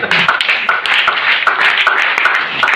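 A church congregation claps together in a steady rhythm, loud and close, the massed hand claps continuing evenly throughout with no talk over them.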